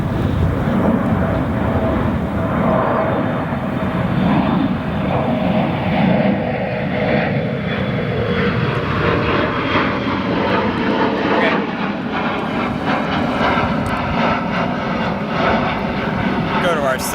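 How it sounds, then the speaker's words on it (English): Delta Embraer 175 jet departing O'Hare runway 28 right at night, a loud, continuous engine roar that holds steady throughout, with a slowly shifting whine as the aircraft climbs away. "This next departure, a Delta Embraer 175 heading to New York's JFK International Airport."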